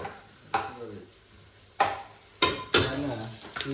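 Mangalore-style mutton ghee roast is stirred and fried in a pan: a continuous sizzle is broken by four sharp scrapes of the spoon against the pan at uneven intervals.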